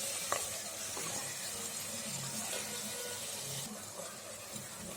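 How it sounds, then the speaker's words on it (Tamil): Country chicken sautéing with curd in a pan for nattu kozhi kulambu, giving a steady, fairly quiet sizzle and stirring hiss that runs evenly throughout, with no talking. "இதை நல்லா வதங்கி வரட்டும் சிக்கனு."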